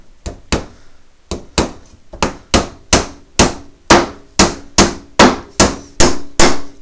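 Around fourteen loud, sharp hammer blows drive a nail, close up and in a steady, slightly quickening rhythm, with no talking.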